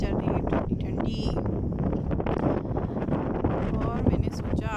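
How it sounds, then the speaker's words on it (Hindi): Cold wind blows steadily across a rooftop in Saudi Arabia, buffeting the microphone with a constant, rough roar that lasts the whole stretch, and a voice may be faintly mixed in. "हवा चल रही है ठंडी ठंडी"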